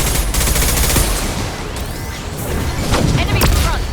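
Heavy gunfire and a flashbang burst in the Mass Effect 2 Legendary Edition shooter, with loud, dense bursts of shots crowding a chaotic firefight and sharp cracks standing out near the end.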